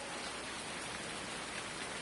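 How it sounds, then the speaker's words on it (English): Steady rain falls in a truck or vehicle simulation game during a shop setup, a dense, even hiss of drops on surfaces that continues unbroken and fairly loud with no voices. "And it's raining as soon as I start the stream"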